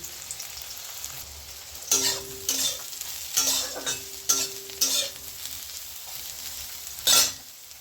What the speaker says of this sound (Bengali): এবার আমি একটু সয়াবিনগুলো ভেজে নেব।